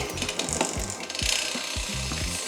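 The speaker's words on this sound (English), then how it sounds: "So in that case you must upshift to the biggest sprocket." Scott Spark RC Pro mountain bike drivetrain with a Shimano XTR rear derailleur ratcheting through upshifts toward the biggest 51-tooth sprocket: a rapid series of close, dry mechanical clicks and pawl ticks, steady and unaccompanied by talk.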